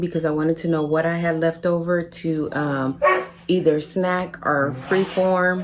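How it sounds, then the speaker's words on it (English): A dog barks intermittently in the background of a home while someone talks continuously over it, the barks partly masked by her voice. "excuse the dog, because I'm not about to pause and hopefully he don't get too outrageous."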